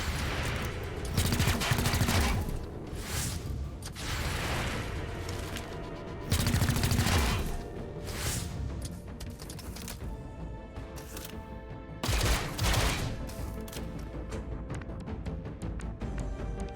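Sustained gunfire in XCOM: Chimera Squad as a squad fights androids, dense bursts of rapid shots and heavy bangs repeating loudly throughout.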